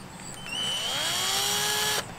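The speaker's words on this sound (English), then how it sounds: "because we're screwing into wood that is so thin, is drill some pilot holes" A power drill spins up and bores a pilot hole into thin wood, a loud close whine rising in pitch for about a second and a half before cutting off abruptly.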